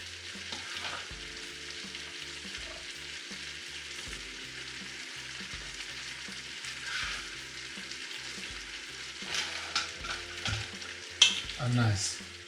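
Celery and other vegetables frying in a pan as the base for oxtail in tomato sauce, a steady close sizzle with occasional stirring scrapes and clatter rising near the end.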